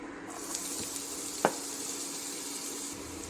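Chopped onions sizzle in a pan of coconut oil, a steady, soft hiss of frying that holds throughout, with one brief clink partway through and no voices.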